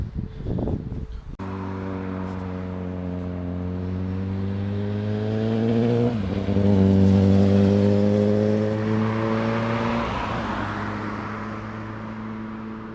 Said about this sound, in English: There goes the Golf R.